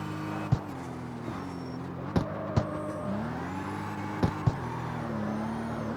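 A BMW M2 built into a Formula Drift car in CarX Street holds a sustained engine drone with pitch sweeping up and down through shifts, punctuated by several sharp clicks or knocks.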